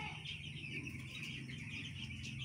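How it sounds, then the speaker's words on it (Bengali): A flock of chickens on a family homestead clucks and chirps softly and continuously under a low background hum, with no nearby speech. "দেখো মুরগিগুলো কত বড় হয়ে গেছে আর সুন্দর লাগছে দেখতে মুরগিগুলোকে দেখো"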